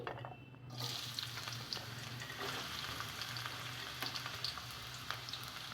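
Onions frying in hot oil in a kadai, a continuous soft sizzle with occasional stirring clicks that starts after a short quiet moment and carries on evenly and fairly faint.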